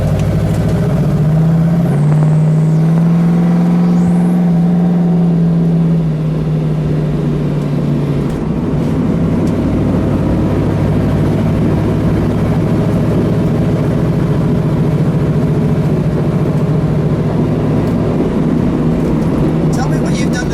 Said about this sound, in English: we'll take you on a ride in what it feels like in Jeff's AMX